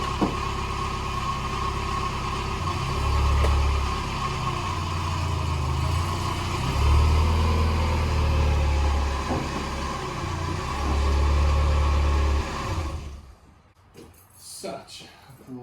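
A 1990 Mazda Miata engine turns over and settles into a steady idle, its low mid-pitched hum fluctuating slightly before cutting off near the end.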